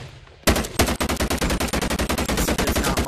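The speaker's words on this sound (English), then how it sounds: "Just like a little SMG. Like a little AR 9mm type thing." Rapid SMG fire from a short-stocked, small-barrel AR-style 9mm in BONELAB: after a brief quiet start, a loud, close burst of fast evenly spaced shots runs unbroken to the end.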